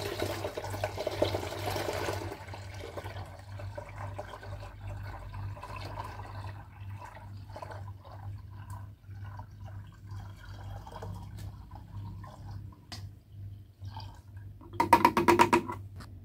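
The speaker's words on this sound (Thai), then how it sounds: "เราจะเทน้ำลงถังหมักไปเลย" Water splashes and pours into a wine fermentation bucket in a short burst at the start, then trickles quietly, with another brief splashing pour near the end.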